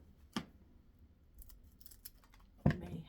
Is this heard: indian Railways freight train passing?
no